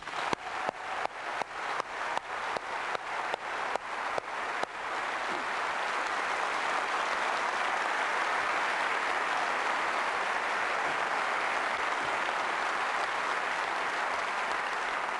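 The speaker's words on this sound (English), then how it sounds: "I also would like to give a round of applause to everybody at Apple who's been working on these 4 products." An audience at a 1999 Apple special event applauds the staff behind four products, starting with a run of rhythmic unison claps before breaking into loud, sustained clapping.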